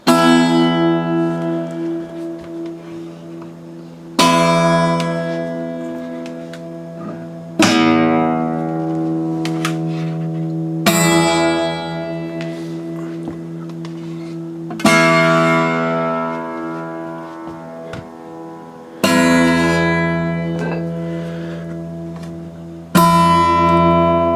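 Acoustic guitars of different sizes and shapes are strummed one after another, each chord ringing out and decaying before the next. About six distinct strums arrive at a steady pace with no talking.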